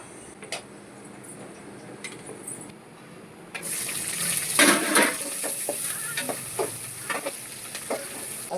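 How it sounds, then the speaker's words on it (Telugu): Onions and green chillies frying for tomato rice in a home kitchen, a steady close sizzle that turns louder midway with scattered stirring taps and scrapes, with no talk. "టమాటా రైస్కి ఉల్లిపాయ పచ్చిమిర్చి బాగా వేగాక"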